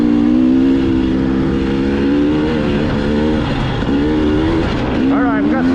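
A 2021 KTM 300 XCW TPI two-stroke dirt bike rides through sand, its engine droning loud and close, with the pitch rising and falling as the throttle is worked and a sharp rev climbing near the end.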